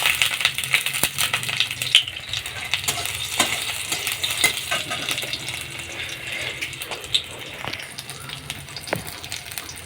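Whole cumin seeds and green chillies sizzle in hot oil in a wok, a close, continuous crackling fry with sharp pops and a few clattering knocks throughout.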